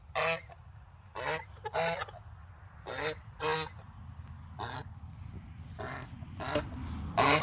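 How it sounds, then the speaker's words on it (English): Chinese goose and Indian goose honking in repeated loud, nasal bursts, several calls spaced irregularly over a steady low background rumble. "It's Chinese goose and there's an Indian."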